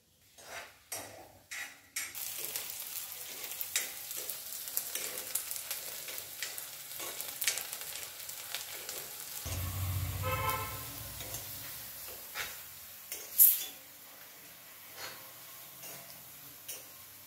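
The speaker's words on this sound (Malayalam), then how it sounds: "ഇനി വെളിച്ചെണ്ണ തെളിച്ച് നല്ല ചെറിയ ഉള്ളി വഴറ്റിയിടുക അതിലേക്ക്." Small onions sauté in coconut oil, a moderate sizzle under frequent clinks and taps of a utensil against the pan, with a louder clatter near the end and no voices.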